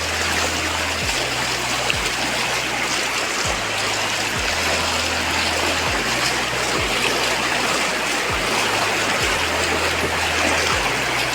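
Sea waves rush steadily and loudly without a break, a dense wash of surging water close by, with a low rhythmic hum pulsing underneath throughout.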